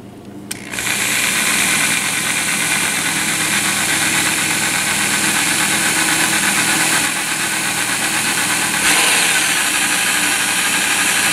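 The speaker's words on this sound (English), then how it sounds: "Let me make sure my drill is going" A power drill starts abruptly and runs at a steady, loud whirring pitch, with a brief dip near the end before continuing.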